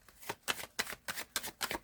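Tarot cards are shuffled, giving quick repeated riffling bursts in an even rhythm, close and moderately loud.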